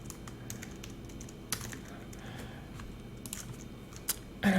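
Typing on a computer keyboard, with soft, quiet key taps in irregular short bursts and a few louder clicks, no voice.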